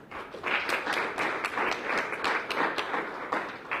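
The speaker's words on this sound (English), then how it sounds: "I think we should give them a big applause" An audience at a council launch event claps in sustained applause, many hands at once, steady and fairly loud, with no talking over it.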